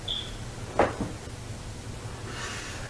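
A door moves in a quiet room during a paranormal investigation, giving a short wooden knock and creak followed by faint scraping, heard over a steady low background hum.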